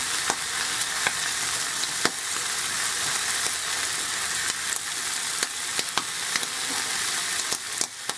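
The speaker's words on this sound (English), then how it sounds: "So your crispy bacon, you leave it in your pan for a bit longer, but obviously don't burn." Bacon fries in a pan with a steady, dense sizzle and scattered sharp pops and crackles, close and continuous, with no voices.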